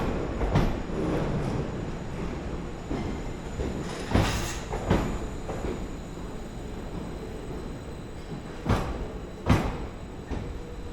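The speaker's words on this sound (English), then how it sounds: "finally, here we have the end carriage approaching" A Greater Anglia intercity train rolls in along a platform with a steady low rumble and several sharp clunks and bangs from the carriages, fairly close.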